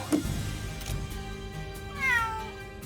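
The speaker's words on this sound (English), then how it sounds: "Kitty noises." A cat meows in the video game Mana Khemia: a few soft mewing calls over a low game backdrop, with one clearer, rising-and-falling meow standing out near the end.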